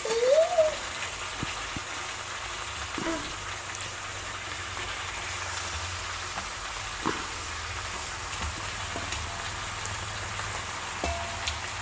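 Chicken pieces frying in a pan give off a steady, even sizzling hiss that lasts throughout, with a few soft clinks over the top.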